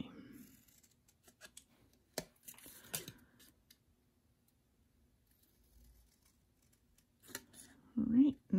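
Paper Christmas tree template being cut out with scissors, scattered crisp snips and rustles separated by quiet gaps, with a voice talking briefly at the start and the end.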